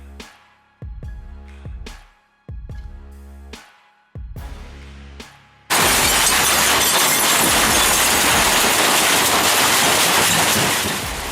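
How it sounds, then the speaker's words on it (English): An industrial shredder grinding an aluminium window frame: several heavy metallic clanks and crunches at intervals, then a loud, continuous roaring grind with crackling fragments that fills the rest of the scene. "That aluminum frame once held windows in a busy factory. Now it meets a shredder, grinding its past into fragments."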